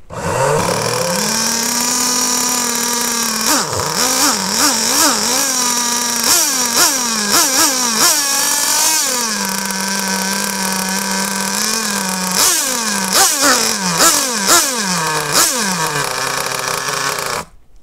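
A small RC model glow engine running on a starter bench, a loud buzzing drone close up that revs up and down in repeated bursts between steadier idling stretches, then cuts off.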